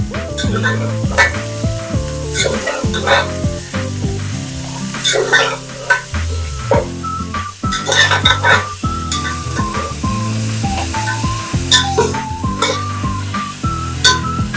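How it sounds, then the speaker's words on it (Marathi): Onions sauté in a pan for a prawn biryani, sizzling steadily while a spoon stirs and clinks against the pan at close range, with music playing throughout. "आता ह्या कांद्याला असा ब्राऊन कलर पर्यंत कांदा छानसा परतून घ्यायचा आहे"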